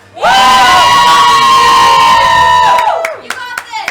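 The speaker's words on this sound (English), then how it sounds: "Cheer on, everyone!" A game show live-stream audience erupts in loud cheering and shrill whoops, a sustained burst of voices that cuts off sharply into scattered claps and shouts.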